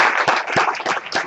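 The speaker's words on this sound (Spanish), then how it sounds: "con un fuerte aplauso" A brief burst of dense applause fills a church during an evening service, a congregation clapping together steadily and fairly close.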